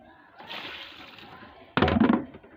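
Water is poured onto garden plants, ivy gourd among them, giving a soft trickle that gives way to a louder splashing gush near the end, with a voice speaking during the clip.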